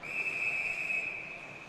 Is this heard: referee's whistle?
yes